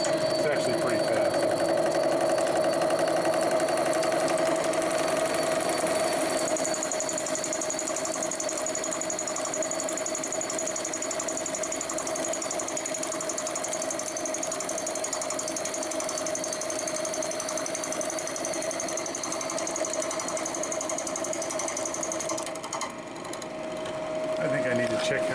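A milling cutter mounted on an arbor takes a very light pass at a moderate feed on a large ACRA lathe setup, giving a steady mechanical whine and hum that holds through the clip with a brief dip near the end; a voice talks over it.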